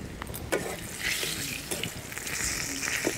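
Potatoes and eggplant frying in oil with turmeric and salt, giving a steady close sizzle with occasional stirring scrapes and bubbling pops, no voices.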